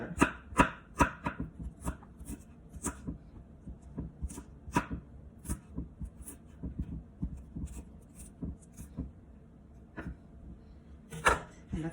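Knife chopping pepper on a cutting board for Jamaican steamed cabbage seasoning, a steady run of close, crisp taps in irregular bursts, with no talking.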